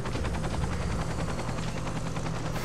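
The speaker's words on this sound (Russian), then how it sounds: "Ой, вертушка прилетела." A helicopter arrives in the video game Far Cry 3. Its rotor thumps loudly and steadily, with a constant engine drone filling the whole stretch, and no one speaks.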